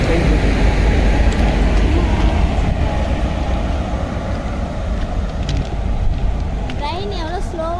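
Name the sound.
train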